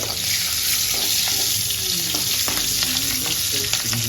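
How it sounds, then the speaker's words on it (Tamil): Salted chillies frying in hot oil, a steady loud sizzle and crackle with scattered pops, heard up close with no talking. "இப்போ நம்ம உப்பு சேர்த்து வச்ச மிளகாயை இந்த எண்ணெயில் சேர்த்துக்கலாங்க. சேர்த்து நல்லா வறுத்துடுங்க."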